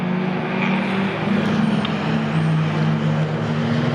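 Racing cars, including a Mazda, run on the Silverstone circuit during a 750 Motor Club enduro race, giving a steady droning engine roar with a sustained low tone heard from a distance.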